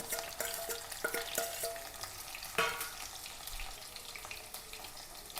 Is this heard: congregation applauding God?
no